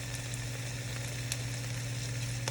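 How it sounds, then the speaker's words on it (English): Vegetables sizzle steadily in a hot pan for black bean enchiladas, a constant broad frying hiss with occasional faint stirring scrapes, close and continuous with no talking. "I'm just gonna give this a good stir, and this is gonna cook for like 2 to 3 minutes until everything is nice and softened"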